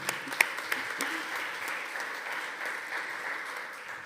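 Audience applause at a Portuguese business panel on incentives and financing, opening with a few sharp distinct claps before settling into a soft, even wash of many hands, moderately faint and heard from a distance.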